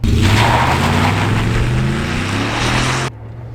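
A Ford Raptor pickup truck's V8 engine accelerates hard, a loud, close, rising roar with climbing harmonic tones that cuts off sharply near the end and leaves a lower idle hum.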